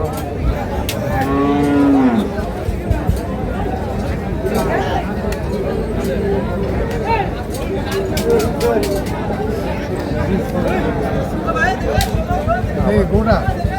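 Big sacrificial bulls at a Qurbani cattle market low with loud, drawn-out moos from close by, set against a constant crowd babble and nearby talk.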